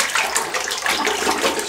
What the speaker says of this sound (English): Let's put some hot water in that blade.